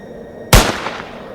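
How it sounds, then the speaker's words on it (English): A single sharp gunshot cracks out in a stormy mountain forest, loud and sudden, followed by a rolling echo that fades away over about a second. "a gunshot exploded somewhere beyond the trees"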